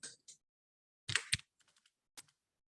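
Key presses on a computer keyboard entering a shortcut in a word processor: a quick cluster of loud clacks, then a few lighter taps and one final sharp press, close and clear in an otherwise quiet room.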